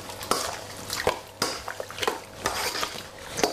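Thai green curry chicken is stirred in a metal pot: a utensil repeatedly clanks and scrapes against the sides with wet, sloshing movement and a faint sizzle, close and fairly loud, with no talking.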